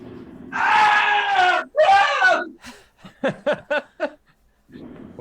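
A person vocally imitates a muffled scream during a Dark Sun tabletop game session, a strained, groaning wail lasting about two seconds followed by a few choppy vocal bursts, loud and close.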